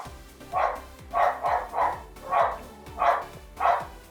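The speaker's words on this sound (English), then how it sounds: "There goes my dog." A dog barks in a run of about seven sharp, fairly close woofs at an uneven pace. A low, steady background hum sits underneath. No one speaks.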